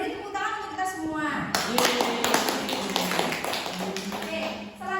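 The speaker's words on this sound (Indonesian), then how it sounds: "kita beri tepuk tangan untuk kita semua" Small classroom group at a microteaching session claps together, a close burst of scattered hand claps and taps with voices talking alongside.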